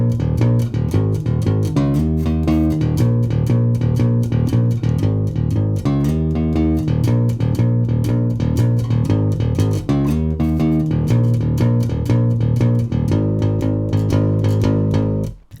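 Electric bass plays a chorus riff, a steady driving line of repeated low notes sustained loud and continuous, with dense accompaniment throughout and no talk.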